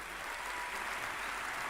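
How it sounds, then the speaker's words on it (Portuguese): A church congregation applauds the fathers present, a steady burst of dense clapping from many hands filling the room for a moment. "Uma salva de palmas para os pais que aqui estão."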